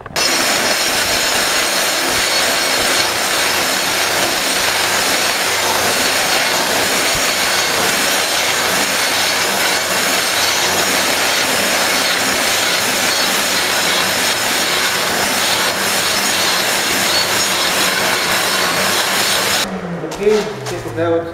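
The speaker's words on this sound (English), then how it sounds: "Need to grind it down." A grinder works down a high spot on a concrete floor being prepared for self-leveling, a loud continuous grinding roar that runs nearly the whole time before cutting off near the end.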